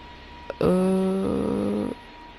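A 767 airliner touches down in the flight-simulator game PTFS: a steady, buzzing engine drone starts abruptly, holds loud for just over a second and cuts off sharply, with no voices.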